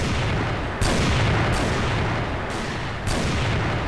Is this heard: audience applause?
no